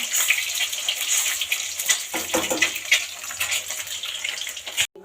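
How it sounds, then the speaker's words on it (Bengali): Hot water pours into a pot of curry cooking on the stove, making a continuous splashing gush with faint sizzling that stops abruptly near the end. "গরম জল দেওয়া মাত্রই সঙ্গে সঙ্গে ফুটে গেছে তরকারিটা।"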